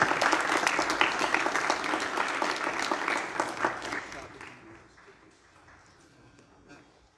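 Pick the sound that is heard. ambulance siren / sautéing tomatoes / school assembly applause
school assembly applause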